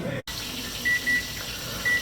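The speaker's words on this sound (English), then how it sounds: "you can hear that timer, so that means that we're about at the 5-minute mark." A kitchen timer beeps three short times at a steady, moderate volume during chicken cooking, sounding over a constant background hiss with faint kitchen noise.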